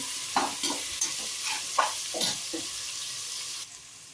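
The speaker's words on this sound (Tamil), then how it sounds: "நல்லா கிண்டி விட்டு நல்லா வதங்க கிண்டி விட்டு" Ingredients for a vegetable biryani sizzle as they are stirred in a pan, with a run of spatula scrapes over steady frying hiss that drops away abruptly near the end, and nobody speaking.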